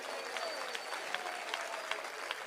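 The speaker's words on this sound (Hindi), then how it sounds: "आप लोग जोरदार तालियां बजाइए" An audience at a Hindi kavi sammelan comedy-poetry show applauds in a sustained patter with rhythmic stronger clap bursts, fairly close and moderately loud, with a faint voice underneath.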